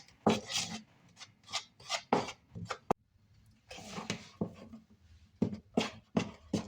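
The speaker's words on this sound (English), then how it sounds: "Just blend it together really well with the flour." Cookie dough of flour, butter, sugar and vanilla worked by hand with a spoon in a bowl, giving close, irregular rasping scrapes and rubs in short bursts with brief pauses.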